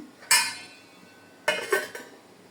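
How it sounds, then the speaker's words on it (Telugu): Metal clatters against a curry pot as chana dal is stirred in and a lid is set on top: one sharp clank, a short quiet gap, then a couple more quick clinks close by. "ఇది ఒకసారి తిప్పేసుకుని ఒక టూ మినిట్స్ మూత పెట్టేసి ఉడకబెట్టేసుకుందాం"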